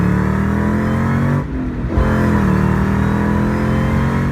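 A Ford Mustang GT's 4.6-liter two-valve V8 drones loudly and steadily, dips briefly in the middle, then holds its pitch again, close to the listener and without any voices.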